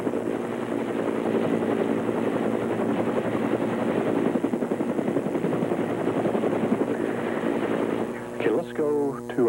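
Helicopter flying over a rural coastal area near McClellanville in 1989, a steady loud rotor and engine drone with rhythmic blade thumping throughout, a voice speaking over it near the end.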